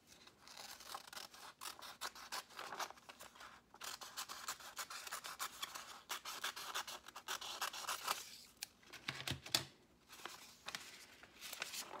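Scissors cut through folded paper for a paper castle craft: close, dry snipping and rubbing scrapes in uneven bursts, with a louder crunch near the end.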